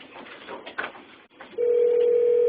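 A cell phone rings with a steady, sustained electronic tone that starts partway through and continues to the end, following a stretch of muffled room noise and faint background voices.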